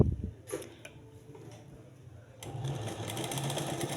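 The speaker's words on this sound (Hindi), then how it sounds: "सिलाई आपने बिल्कुल किनारे पर एक जैसी सीधी सिलाई रहनी चाहिए" An electric sewing machine stitches a straight seam along the edge of a sleeve front, starting with a short burst of mechanical chatter and then running in a steady, busy whir that grows louder toward the end.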